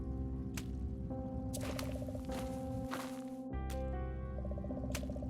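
Water drips echo through the underground tunnels of the Goosebumps video game, spaced clear drops falling over a steady droning ambience and a repeating musical tone.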